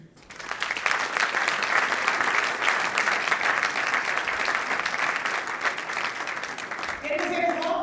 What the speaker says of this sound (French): C'est mademoiselle Rebecca, que je vous demande d'applaudir.